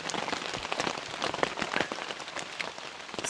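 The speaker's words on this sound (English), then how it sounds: "Still raining." Steady rain patters on a tent in the woods during a camping trip, a dense continuous hiss of drops with occasional louder taps, close and even throughout with no talking.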